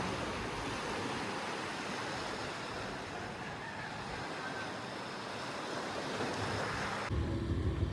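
Ocean surf rolls onto a beach on Nusa Penida, Bali, as a steady, loud, unbroken wash of waves with some wind rumble, no voices.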